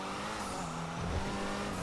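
Ocelot Ardent sports car in a video game, its engine droning steadily at close range with a tire squeal rising over it, continuous and fairly loud throughout.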